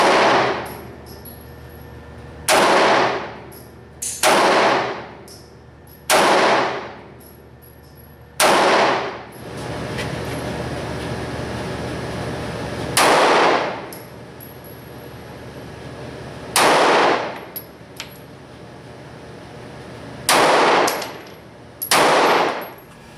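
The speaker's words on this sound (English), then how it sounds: "We'll shoot a few more rounds of looking downrange" Nine-millimeter pistol from a short-barrel auto-loader firing Speer Gold Dot 124 +P rounds, about ten sharp loud shots spaced irregularly, some in quick pairs, each with a short ringing decay outdoors.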